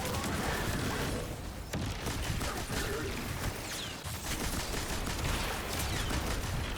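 A strand weapon fires in a shooter video game with dense, rapid bursts of gunfire and impact crackle running almost without pause, loud and continuous.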